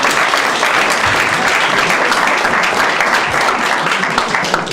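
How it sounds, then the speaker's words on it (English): A steady crowd applause fills the room, dense and continuous clapping at even loudness throughout without pause. "So a warm round of applause for Joy and Carl."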